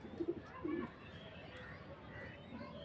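Pigeons of several types, including Amritsari and green males, give a few soft, low coos early on while pecking at grain, faint against a noisy background.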